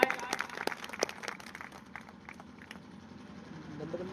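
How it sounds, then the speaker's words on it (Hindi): Audience applause at an Aastha Lifecare plan presentation, honouring the Dream House Achiever Platinum Stars: a burst of sharp claps at the start that settles into a softer, steady patter of clapping from a crowded hall. "उनके सम्मान में एक बार तहे दिल से तालियां हो जाए"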